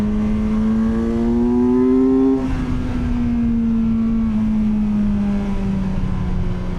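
A 2025 Kawasaki Versys 1100 SE LT motorcycle engine holds a loud, steady high-rev drone near 10,000 RPM, its pitch easing down slightly while cruising.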